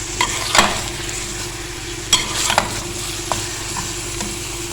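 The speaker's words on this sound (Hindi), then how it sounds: "बस इसको अच्छे से भूनेंगे।" Chicken pieces fry with ginger and garlic in a handi-style pot, a constant sizzle with a few loud scraping stirs of a spoon against the pan at irregular moments.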